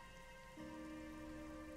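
Soft, steady rainfall patters at a shrine on a winter evening in the video game AI: The Somnium Files, faint and continuous with a low tonal hum joining partway through.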